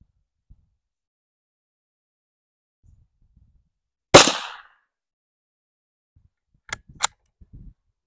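A Marlin 783 bolt-action rifle fires outdoors: one sharp, loud crack with a short decaying tail, followed seconds later by two fainter snapping sounds, with near silence between.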